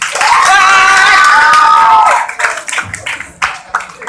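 A comedy show crowd in Nepal claps and cheers after a drawn-out shout, with scattered applause and cheering voices trailing off unevenly, loud and nearby at first, then patchy.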